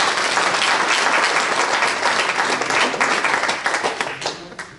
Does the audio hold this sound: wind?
no